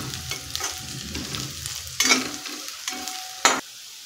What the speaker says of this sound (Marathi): शेंगदाणे हे आपल्याला हलकेसे परतून घ्यायचे आहेत